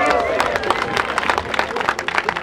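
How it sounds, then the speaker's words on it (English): A crowd claps and applauds steadily at an airsoft milsim event, bright scattered claps filling the clip, with some voices mixed in beneath. "Please give them a round of applause for coming over."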